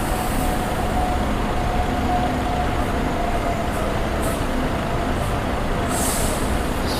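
A Mercedes-Benz OH 1626 air-suspension coach with a Laksana body rumbles past on a Sumatran road, a steady loud engine roar with brief hissy bursts near the end.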